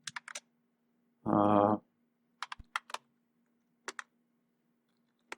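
Typing on a computer keyboard: short bursts of close, crisp key clicks in small clusters with pauses between them, broken once by a brief hum-like tone, otherwise quiet.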